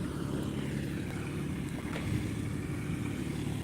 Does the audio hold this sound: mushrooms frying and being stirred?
no